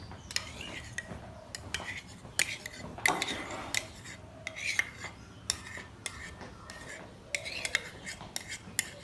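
A spoon clinks lightly and irregularly against a clear glass as it stirs coconut milk into mineral water, the small taps quiet and close.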